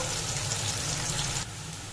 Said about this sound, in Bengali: দিয়ে দিচ্ছি পেঁয়াজ কুচি, পেঁয়াজ ভেজে নেব